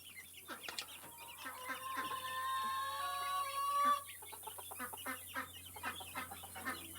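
Young farm chickens of a half Polish and crested cream legbar mix cluck nearby in quick bursts. A long, drawn-out call rises in the middle and is followed by more scattered clucks.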